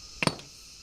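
Two quick, hard knocks of a hammer striking snails on the ground land close together at close range, followed by quiet.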